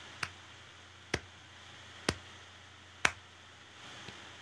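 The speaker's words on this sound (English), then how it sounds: "That's me giving myself a slow clap," A slow golf clap: four single, crisp handclaps spaced about a second apart, with a fifth fainter one trailing, moderately quiet against low room hum with no voices.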